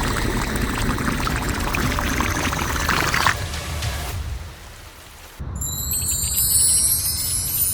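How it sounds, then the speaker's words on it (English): Heavy simulated rain pours steadily into a hole in a miniature road construction scene with tiny excavators and trucks, a loud continuous wash that drops away briefly before resuming, with a bright chime-like flourish near the end. "It's raining heavily again. The water is filling the hole and burying the cars."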